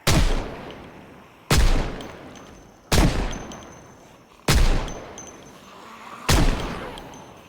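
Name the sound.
gunshots in a video game (ZBay modded)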